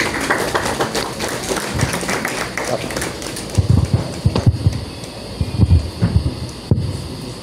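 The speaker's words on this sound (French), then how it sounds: "je vous invite à accueillir Monsieur Wakene avec vos applaudissements" Audience clapping to welcome a speaker at a formal presentation in a hall, heard as a fairly close, uneven patter of hand claps with some heavier thumps, without talk.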